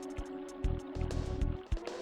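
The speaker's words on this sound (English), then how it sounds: "Pour the hot water in a noodle." Hot water poured into a cup of instant noodles in the video game EarthBound, a short game sound of bursts of liquid splashing and trickling, fairly close and clear, with a steady tonal hum of game music underneath.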